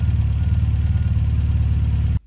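An MGB GT engine idles at around 1000 RPM, a steady low rhythmic throb running evenly for about two seconds before cutting off abruptly.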